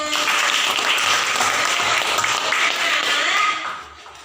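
Students in a classroom clap together in a steady, dense burst of applause that fills the room, then tapers off over the last second.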